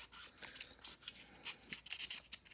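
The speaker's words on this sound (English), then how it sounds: "So you would get 1200 grit sandpaper, and what you would do is just clean it up." Fine 1200 grit sandpaper scrapes over a tarnished brass chassis piece in quick, uneven back-and-forth strokes, a soft, close, dry rasping.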